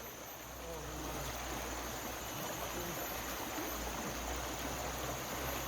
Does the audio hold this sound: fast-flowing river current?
yes